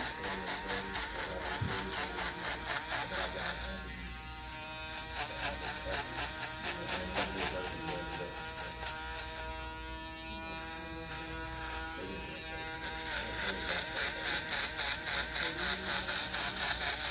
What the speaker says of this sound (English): Now this is a shaver, so you don't want to go crazy with the pressure.